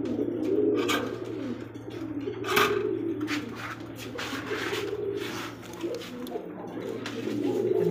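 Lahori pigeons cooing steadily over a low constant hum, with soft repeated coos and occasional wing or movement sounds nearby, voices faintly in the background.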